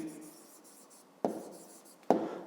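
Pen or pencil writing by hand on paper during a fifth-grade maths exercise: soft, continuous scratchy strokes close by, with two sharper taps or strokes standing out, and no voices.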